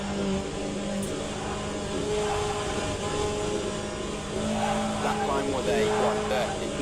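Race car tyres squeal in Le Mans Ultimate, a sustained whining tone riding over a continuous engine drone that swells toward the end.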